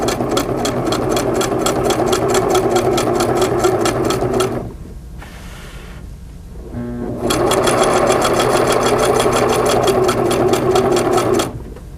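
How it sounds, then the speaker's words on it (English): A Singer sewing machine stitches a quilt along a white chalk line, running in two long steady bursts of rapid needle clatter separated by a brief pause in the middle, close and loud with no talking. "Place your quilt back under the sewing machine and stitch along the white chalk line."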